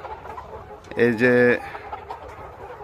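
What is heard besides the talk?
layer hens clucking on a chicken farm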